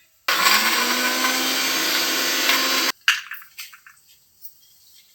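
A mixer grinder whirs loud and steady for about three seconds as it blends biryani masala, then cuts off abruptly, followed by scattered clatter as the jar is handled.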